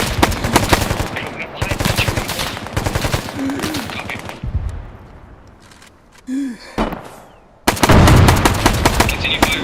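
Suppressive gunfire in Bellum crackles in dense automatic bursts, loud and close. It drops back during a quieter middle stretch with a few brief voice fragments, then returns in a heavy closing barrage.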